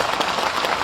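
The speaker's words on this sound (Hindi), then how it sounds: "जोरदार तालियों से स्वागत करो" A brief burst of crowd clapping at an outdoor protest gathering, dense and fairly loud, lasting under a second with no clear voices.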